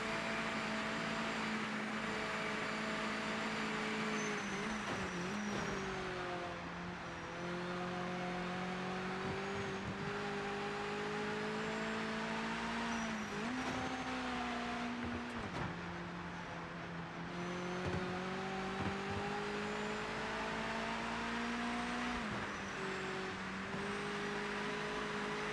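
Mazda race car in the Project Motor Racing video game, its engine droning steadily and loud throughout, pitch climbing and dropping through gear changes with brief dips around shifts, no talk over it.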